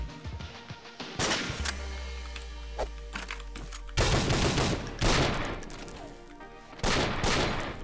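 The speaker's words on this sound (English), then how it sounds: "Bro, I was shooting at the fucking corpse." Bursts of rapid gunfire in the video game Madness Interactive Reloaded, loud crackling volleys broken by short pauses and a low humming tone in the game's soundtrack.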